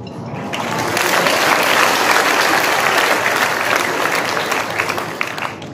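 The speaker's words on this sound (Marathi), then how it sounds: "तुम्ही टाळ्या वाजवल्या" An audience bursts into sustained, dense applause that swells quickly, holds loud and steady for several seconds, then tapers slightly, with no voices over it.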